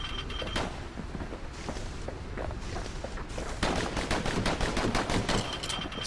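Dual slinger pistols fire in the video game Bastion, rapid volleys of sharp shots that grow into a dense, steady rattle of gunfire.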